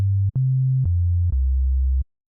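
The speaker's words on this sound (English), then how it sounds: "we have our nice dedicated sine that's going to be a part of this bass" Pure sine-wave bass from a synthesizer's oscillator A, four smooth low sustained notes stepping between pitches, each starting with a soft click, then abrupt silence.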